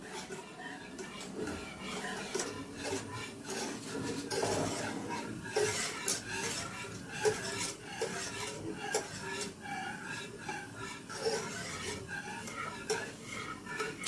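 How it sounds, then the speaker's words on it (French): A thick homemade cheese mixture is stirred steadily in a pot, making continuous rasping, rubbing scrapes in a repeated rhythm at close range. "il faut mélanger jusqu'à ce que ça devienne vraiment épais"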